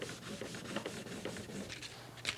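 Hand sanding a mission oak furniture surface with sandpaper to knock down raised grain: steady, close rubbing strokes in a quick back-and-forth rhythm, soft and even, with no talking.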